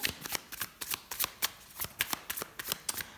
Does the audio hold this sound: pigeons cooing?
no